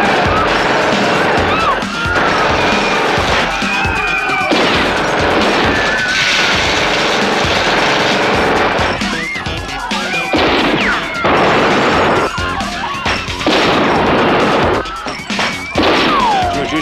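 Loud, chaotic gunfire in a police shootout, with repeated sharp shots and crashes over about seventeen seconds, mixed with shouting.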